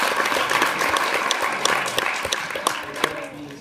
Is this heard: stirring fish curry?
no